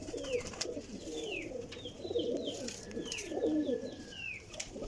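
A Teddy pigeon coos in soft, throaty, rolling bursts, close and fairly quiet, while thin high chirps from other birds flit over the top.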